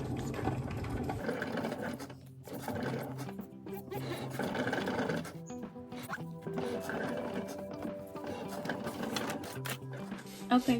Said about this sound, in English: So you hear my Cricut is just cutting out the girls' faces.